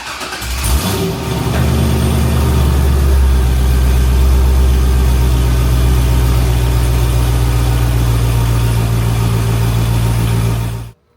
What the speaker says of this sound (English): I'm gonna go start the car so I don't have to keep pressing unlock